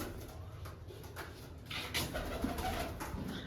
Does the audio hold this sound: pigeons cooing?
yes